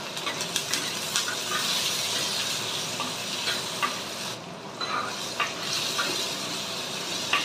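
Onions and tomatoes sauté in a pan while cooking river crab curry, a steady soft sizzle and frying hiss with occasional stirring scrapes and clinks, no talking.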